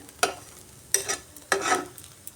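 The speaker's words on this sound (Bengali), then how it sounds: "বাদামটা দিয়ে একটু নাড়িয়ে নিলাম" Peanuts are stirred in a frying pan with a spiced filling mixture, three distinct scraping strokes with a faint sizzle between them, close and quiet with no talk.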